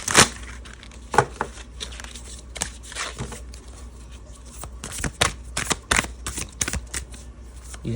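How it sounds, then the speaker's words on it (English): A barely used tarot deck being shuffled by hand, giving repeated crisp riffling and flicking bursts in uneven rhythm, close and fairly quiet, with no talking. "these cards are so barely used, can't even shuffle them around here"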